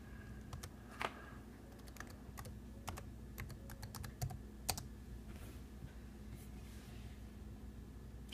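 Quiet typing on a computer keyboard as a name is entered: scattered clicks and short bursts of keystrokes over a low steady hum, with no talking.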